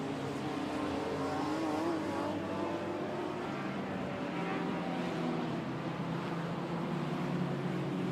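A BMW E36 M3 race car from 1997 runs at Brands Hatch during classic sports car qualifying, its engine a steady droning roar held at a distance without pause.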